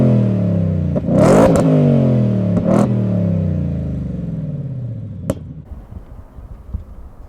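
A 2023 Ford F-150 Raptor R V8 exhaust in Baja mode, heard close from behind, blares through two sharp revs in quick succession, then settles into a lower, rumbling idle with a few pops.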